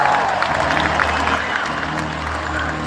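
An indoor crowd at an Indiana Fever basketball game makes a loud, sustained roar of voices, a dense wash of noise that reads as booing aimed at coach Stephanie White.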